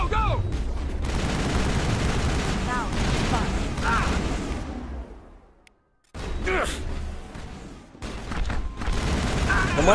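Sustained gunfire from a firefight in the video game Mass Effect, with dense bursts of shots and booms and a voice over them. It cuts out briefly near the middle, then the shooting resumes loudly.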